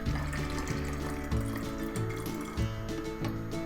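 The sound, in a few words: water pouring out through small hole in plastic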